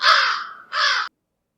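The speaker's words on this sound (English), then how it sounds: "that's the crows" Two loud, harsh crow caws close by, the first longer and fading, the second short and abrupt, followed by silence.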